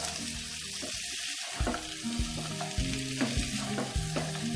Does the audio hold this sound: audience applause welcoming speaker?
no